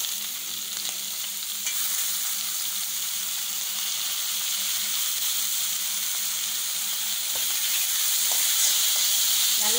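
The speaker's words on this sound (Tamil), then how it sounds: "நல்லா ஹை ஃப்ளேமில் வச்சு ஃப்ரை பண்ணுங்க." Spring onions with salt fry on a high flame for noodles, producing a loud, continuous sizzle and hiss with occasional stirring scrapes, close and alone.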